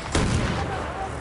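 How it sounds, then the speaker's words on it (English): Enemy artillery barrage in Battlefield 1, a single heavy boom early on followed by a rumbling decay, fairly loud and close with no talk. "Wait for the enemy artillery barrage to stop firing."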